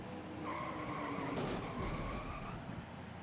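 A race car spins out and skids in NASCAR Heat 5, the tires squealing in a sustained screech for about two seconds over the steady engine drone, with a brief scraping burst in the middle.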